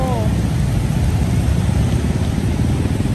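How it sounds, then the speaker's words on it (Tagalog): Heavy rain pours onto a street, a loud, steady broadband wash that fills the whole stretch without letup, with a brief high tone near the start. "Lakas ng ulan dito."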